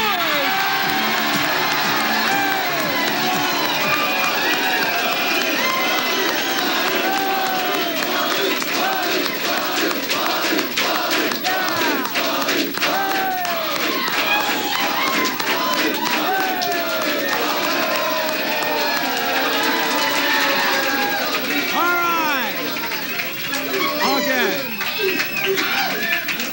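Live studio audience at a 1985 television talk show, cheering, whooping and yelling continuously and loudly, a dense crowd roar that stays up throughout.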